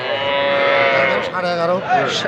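A young calf moos loudly and close by at a cattle market, one long drawn-out bellow with a wavering pitch, followed by a shorter second call.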